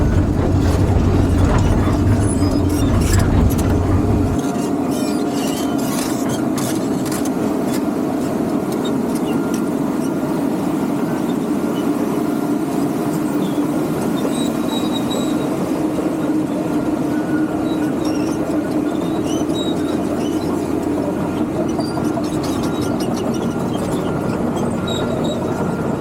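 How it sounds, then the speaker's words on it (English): A tractor drives off to be parked after concrete-smashing work, its engine a steady rumble with clanking, ratcheting mechanical clatter, loudest early on, and no talk. "We'll go park this tractor over here now."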